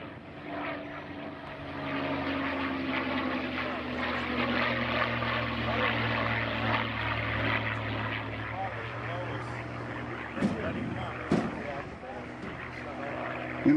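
Propeller aircraft, including Miss America and a SkyRaider, fly past at an air show alongside an L-39 jet. A sustained engine drone swells and shifts in pitch across the pass, with a few sharp knocks near the end and talk beneath it.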